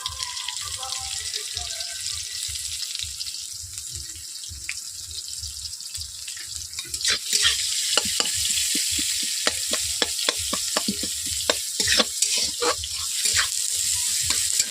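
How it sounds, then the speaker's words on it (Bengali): Onions hit hot oil in a wok after the tempering spices and fry with a loud close sizzle, which grows busier partway through as they are stirred with rapid clicks and scrapes. "এরপর আমি কড়াইতে পেঁয়াজ দিয়ে দিচ্ছি"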